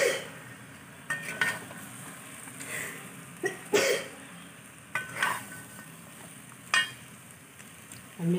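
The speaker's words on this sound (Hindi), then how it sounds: "इसको अच्छे से मसाला को फ्राई करने के लिए 2 मिनट" Masala frying in a pan for pulao gives a soft steady sizzle, broken by several short scrapes and stirring knocks at irregular intervals, close and fairly quiet, with a brief cough.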